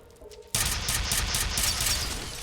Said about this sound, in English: Oh my god, I threw a grenade.